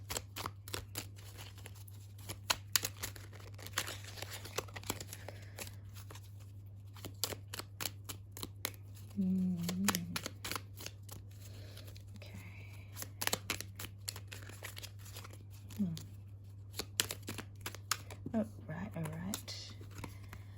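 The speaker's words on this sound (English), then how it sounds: "I'll just get the circle laid out, and then we'll start to make some connections between the cards" Tarot cards laid out in a circle: repeated crisp card flicks, slaps and shuffling taps across a table, with quiet speech and a steady low hum beneath.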